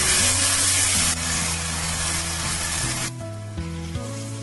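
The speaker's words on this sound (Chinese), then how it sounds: "再把西紅柿也加進來翻炒，炒至西紅柿出汁" Tomatoes stir-fried in hot oil with scallion and garlic give a loud, dense sizzle that fills the pan, easing slightly partway through as the stirring continues.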